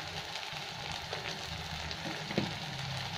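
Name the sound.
masala with cumin and coriander powder frying in pan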